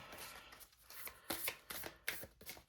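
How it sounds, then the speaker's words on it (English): Tarot cards are shuffled by hand in a few quick riffling bursts with crisp papery slaps, close and quiet, with no talking. "I'll do my best not to shuffle onto the floor"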